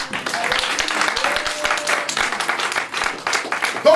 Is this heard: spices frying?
no